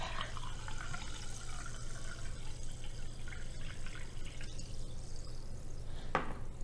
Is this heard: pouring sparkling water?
yes